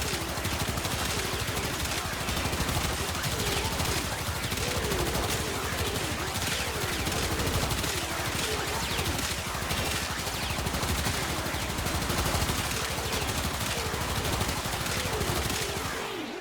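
Gunfire from the Knell weapon in the game Warframe, hip-fired, forms a dense, unbroken barrage of loud rapid shots running continuously throughout.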